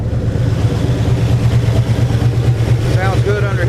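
A 481 big block Chevy V8 idles steadily after about five minutes of running, not yet fully warm, with a deep, loud, rhythmic burble close by and a brief higher squeal near the end.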